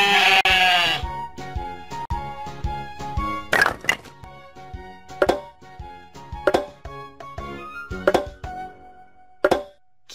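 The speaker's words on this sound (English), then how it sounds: "Sheep." Sheep bleating in a farm setting, a loud opening bleat followed by a string of shorter bleats and soft knocks, with repeated sharp transients spaced through the rest, no talk.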